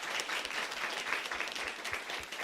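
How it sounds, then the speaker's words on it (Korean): A church congregation applauds in praise, a dense, even wash of many hands clapping together throughout, filling the room at a steady moderate level. "우리 정집사님 안에 언어 습관을 바꿔주신 우리 하나님께 박수를 한번 쳐드립시다"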